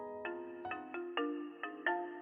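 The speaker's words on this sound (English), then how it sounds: "The harsh ringing interrupted my thoughts." A phone ringtone from the Mystery Lover2 game plays a harsh, bright chiming pattern, six or so sharp tones in quick irregular succession, loud and alone.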